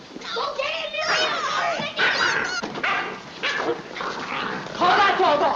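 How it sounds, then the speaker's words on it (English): A dog barks and yelps excitedly amid a tense 1938 drama scene, its sharp repeated barks mixed under loud, overlapping shouting voices. "Call that dog off!"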